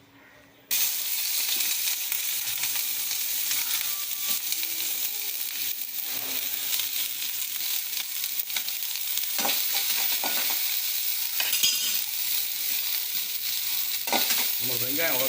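Onions sauté in hot oil in a pan, giving a close, continuous sizzle with occasional scraping stirs that begins sharply and carries on throughout.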